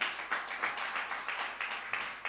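Sparse, faint clapping from a small audience at a Hindi youth event, a few hands striking in an uneven rhythm, heard from a distance with no voices over it.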